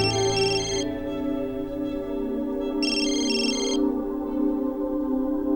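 A mobile phone rings with an incoming call, a bright electronic ringtone melody sounding in two bursts separated by a pause, over a sustained musical background.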